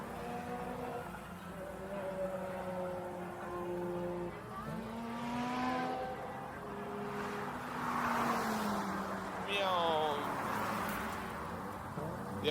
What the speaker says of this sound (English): The RX-8 is going a lot slower than the RX-7